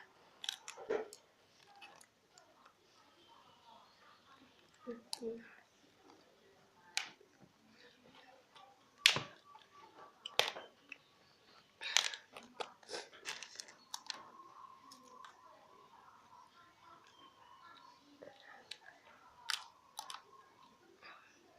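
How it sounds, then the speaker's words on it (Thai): Chewing green apple flavored paper candy, sparse close clicks and crinkly snaps spread over a quiet background, with soft mouth sounds between. "เดี๋ยวเรามาลองชิมสีเขียวนะ"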